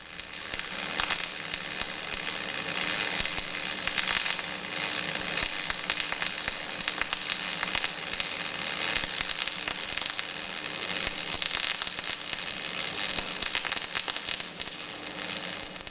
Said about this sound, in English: Continue with the weld, concentrating on holding a steady gun angle and maintaining a well-formed weld pool